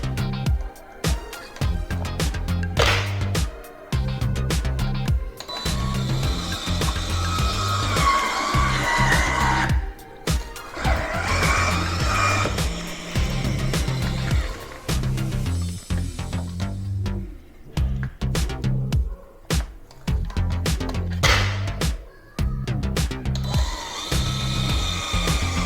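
An electric citrus juicer squeezes oranges, its motor whirring in repeated bursts with short pauses between them, close and fairly steady for most of the stretch.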